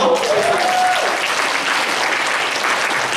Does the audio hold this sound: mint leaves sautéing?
no